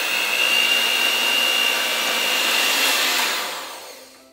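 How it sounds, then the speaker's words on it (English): An electric hand mixer whirs steadily at close range, beating a small batch of cupcake batter, then winds down and fades at the end; no talking. "I use a hand mixer because this is a very small batter."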